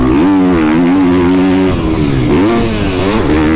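A 2021 GasGas 250 MCF motocross bike on a dirt circuit at Saint-Jean-d'Angély, its engine loud and close, holding a steady rasp then dipping and revving up again, with no talk.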